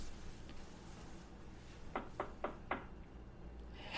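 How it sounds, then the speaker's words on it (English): Four quick knocks land on a door in a quiet room, evenly spaced and fairly close, with faint background hiss around them. "Someone knocked on your door while recording."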